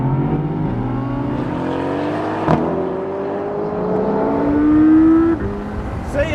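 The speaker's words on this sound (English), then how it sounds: "we're going to floor the throttles and go" A Mercedes-AMG GT C, Audi R8, McLaren 570S and BMW i8 accelerate at full throttle in manual mode in a drag race. The engines roar loudly and rise in pitch through several gear changes, with a sharp shift crack partway through.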